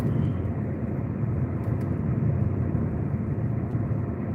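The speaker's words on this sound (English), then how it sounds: "They got 2 trucks coming through." Two big trucks rumble past in a steady, loud low-pitched roar that holds throughout, with no talking over it.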